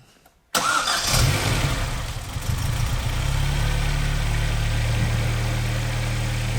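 A worn, high-mileage car engine, 250,000 km, with scored bearings and a heavy knock, fires right after a short crank. It settles into a steady, loud idle with a droning exhaust.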